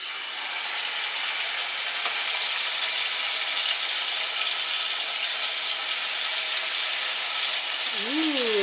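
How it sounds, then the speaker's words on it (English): Pork searing in a hot pan, a steady, even sizzle that holds at a constant level throughout, ending with a brief squeaky scrape. "So then we're gonna put it in there and sear on both sides."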